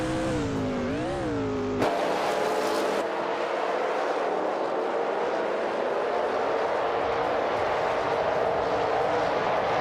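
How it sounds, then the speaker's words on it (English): 1982 Pontiac Grand Prix race cars lapping, an engine note rising and falling in pitch, then a loud full-throttle roar that sweeps past and settles into a sustained high drone. "Deplorable is running a Pontiac Grand Prix from 1982, and they're currently in the 13th place."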